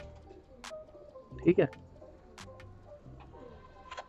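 Domestic flying pigeons give a brief, close coo midway through, with a few faint clicks around it and someone speaking briefly.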